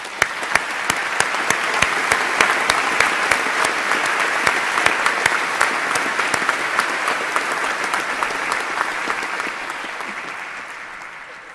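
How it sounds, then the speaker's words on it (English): Sustained applause from a graduation audience at a University of Edinburgh ceremony for students and staff, a dense, even roar of clapping with crisp individual claps that holds strong and begins to fade toward the end. "So let's applaud the students and staff in those 3 schools."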